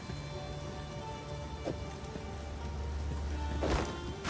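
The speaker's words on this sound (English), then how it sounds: "It's raining like super hard outside." Heavy rain pours down steadily outdoors, a dense continuous wash of drops hitting surfaces, with a couple of brief louder spatters near the end.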